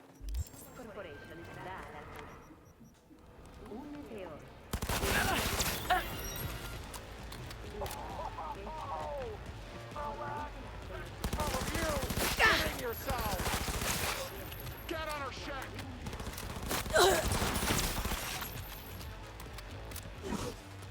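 Bursts of SMG fire in the Cyberpunk video game come as dense rapid rattling volleys mixed with other game effects, loud and repeated, with voices talking over parts of the action.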